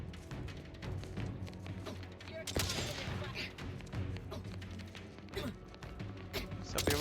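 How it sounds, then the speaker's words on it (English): Gunfire in the video game The Outer Worlds 2 rattles in rapid bursts and scattered shots over a dense battle mix, with thuds and brief voices in between. "he's still shooting at us"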